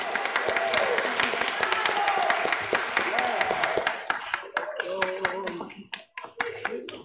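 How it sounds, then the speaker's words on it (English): A church congregation applauds during a Sunday service, with dense clapping from many hands that thins toward the end into scattered claps. "Can we please give another round of applause to all the Presby players for the work that they put in?"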